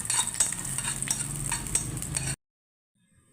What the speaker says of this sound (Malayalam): നെയ്യ് ചേർത്തിട്ട് കുറച്ച് കശുവണ്ടി വറുത്ത് മാറ്റണം.